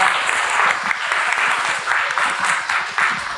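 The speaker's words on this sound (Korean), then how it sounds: "한 번 더 격려의 박수를 부탁드립니다." Applause rises from the audience at an education forum on university admissions after a student's presentation. It is dense and steady, fills the whole stretch at a loud level, and has no speech over it.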